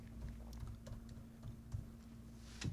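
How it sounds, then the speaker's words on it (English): Quick, light clicking of keys on a computer keyboard, soft and fairly close, in uneven bursts over a steady low background hum. "Average Ming Chen typing mistake"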